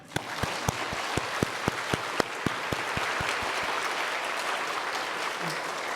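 A church congregation at a Korean worship service claps together in a steady, rhythmic beat for about three seconds, then breaks into looser, sustained general applause.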